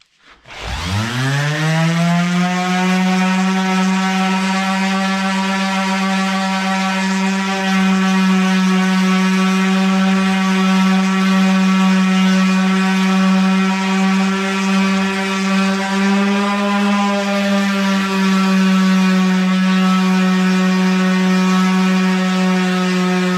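A power sander working on a figured maple tabletop spins up quickly and then holds a loud, steady, tonal whine for the whole stretch, with no talking over it.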